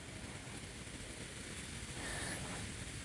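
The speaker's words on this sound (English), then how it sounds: "And it's a windy day today. Excuse the wind." Wind buffets the microphone at an outdoor Redskins vs Panthers football game with a constant rushing roar, steady and broadband, with no voices over it.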